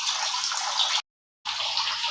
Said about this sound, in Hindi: पंप शुरू कर दिया है और पानी नीचे से ऊपर आ रहा है और वापस नीचे जा रहा है।